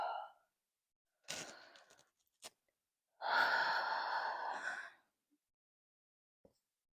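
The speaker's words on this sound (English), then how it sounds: "And just taking a couple of breaths here." Deep, audible breaths in a yoga downward facing dog pose: a short exhale, then a longer inhale, a brief catch, and a full drawn-out exhale, close and quiet against silence.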